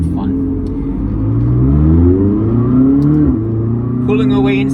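A McLaren 600LT engine revs hard under full acceleration, its deep rising roar climbing steadily through the gears, loud and close from inside the car, with a brief shift dip before pulling again.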